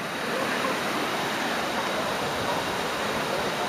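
Rushing water at Tha Phae waterfall, a dense, continuous roar of falling water, steady and broadband with no breaks.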